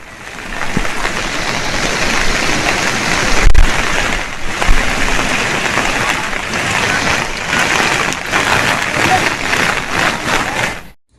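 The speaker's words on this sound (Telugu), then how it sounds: "ఎల్లారెడ్డి ప్రజలందరూ కూడా భారీ వర్షాలు పడుతున్నాయి" Heavy monsoon rain pours down while floodwater runs across a road, producing a loud, dense, continuous wash of broadband noise with occasional thuds, near and steady until it cuts off.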